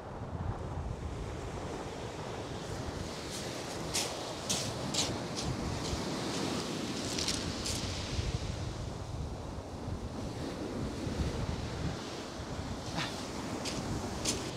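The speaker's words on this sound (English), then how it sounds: "it's so windy here and the waves are so rough," Strong wind roars steadily across the microphone at the seashore while rough sea surf crashes continuously, with bursts of spray and gusts throughout.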